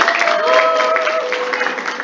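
A crowd claps together in a dense, continuous burst of applause, with a few voices mixed in beneath it.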